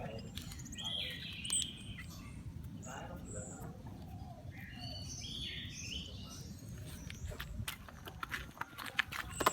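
Orange-headed thrush chicks chirp in short, high bursts while being hand-fed, scattered over a steady low rumble of background noise.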